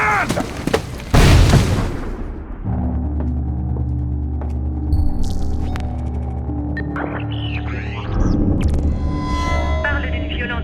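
A grenade blast in Splinter Cell Blacklist hits as a sudden heavy boom after a shouted warning, followed by a low rumbling hum, scattered electronic effects and a second burst of noise near the end, with game dialogue mixed in.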